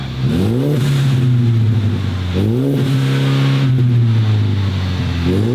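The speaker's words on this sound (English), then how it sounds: "He's gonna keep revving this" A car engine revs hard through a loud MagnaFlow performance exhaust in three rising bursts, each climbing then settling into a deep, throaty idle.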